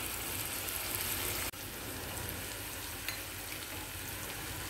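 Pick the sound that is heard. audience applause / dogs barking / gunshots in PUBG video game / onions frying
onions frying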